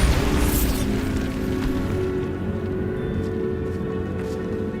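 Booming magical blast from the Bombarda spell in Hogwarts Legacy, a loud burst at the start that rolls into a long, dense rumbling decay, as of debris settling in a crumbling catacomb.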